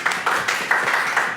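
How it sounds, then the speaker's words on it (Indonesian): Audience clapping at an Indonesian music finalist event in Yogyakarta, a modest crowd applauding with fairly even, moderately loud claps over a short stretch. "Luar biasa, tepuk tangan."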